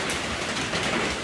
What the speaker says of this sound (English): the rain's back on, just in case you're wondering.